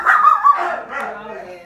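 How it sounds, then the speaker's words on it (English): A house dog gives several close, loud barks and yips that trail into whimpering whines, over a steady hum of indoor background noise. "Make your dog be quiet, I'm filming."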